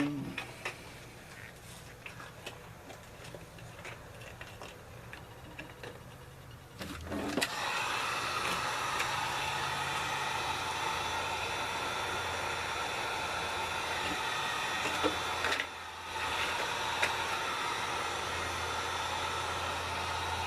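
A heat gun blowing hot air onto a PVC sheet being shaped into a hatchet sheath, a steady broadband roar that switches on partway through, runs continuously and briefly dips before resuming.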